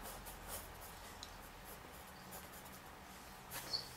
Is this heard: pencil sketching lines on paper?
yes